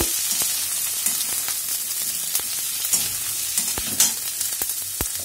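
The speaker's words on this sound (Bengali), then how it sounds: "ভালো করে নাড়তে হবে" Chopped capsicum sizzles and fries in a pan over medium-high heat while being stirred, with sharp spatula scrapes and clacks punctuating a steady sputtering hiss, close and fairly loud, with no voices.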